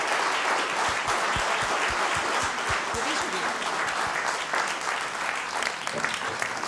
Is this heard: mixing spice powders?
no